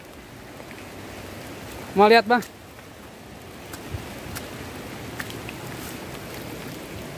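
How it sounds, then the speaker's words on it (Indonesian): Steady rain patters down during a night of eel fishing, a constant soft hiss with scattered drops, while someone briefly speaks nearby. "Ini posisinya hujan teman-teman ya."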